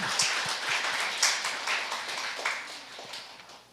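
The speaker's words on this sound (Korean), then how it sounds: "하나님께 영광의 박수 드리시기 바랍니다" Church congregation clapping in praise during a worship service, a dense, steady patter of many hands at moderate distance with no voices over it.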